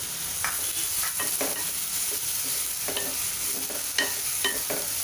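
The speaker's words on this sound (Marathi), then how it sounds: "आता हा आपण कांदा 4 ते 5 मिनटं छान असा भाजून घेणार आहोत तेलात." Onion fries in hot oil with curry leaves in a pan, a constant close sizzle broken by repeated scraping stir strokes, no voices.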